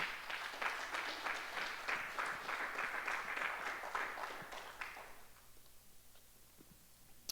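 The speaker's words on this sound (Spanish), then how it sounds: "Dale un aplauso al Señor si puede." A church congregation applauds during a Sunday service. The dense clapping is fairly quiet and distant, then thins out and dies away near the end.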